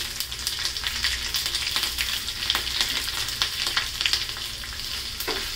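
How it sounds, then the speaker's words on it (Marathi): Cumin seeds and green chillies dropped into hot oil in a kadhai for tempering, crackling and sizzling loudly and continuously with sharp popping spatters, close up and steady throughout, no voices. "तेल छान गरम झालेलं आहे, त्याच्यामध्ये जिरे टाकते आणि ह्या मिरच्या."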